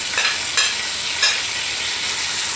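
Tomato stirred into garlic and onion frying in a pan, a loud steady close sizzle with a few soft scraping stirs, no voices.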